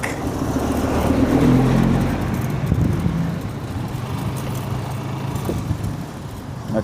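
A big truck rumbles past on a roadway in Tarlac, its deep engine and rolling drone swelling then easing away, steady traffic noise continuing with no talk.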